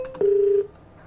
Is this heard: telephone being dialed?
yes